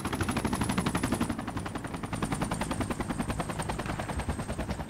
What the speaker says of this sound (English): I hear helicopters.